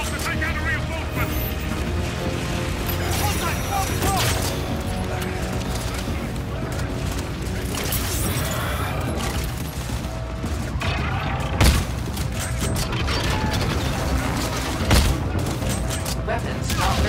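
Gunfire and explosions rumble steadily from a futuristic Call of Duty: Infinite Warfare battle as a C-12 fires on enemy reinforcements, with dense continuous combat noise and a couple of sharper blasts under intermittent talk.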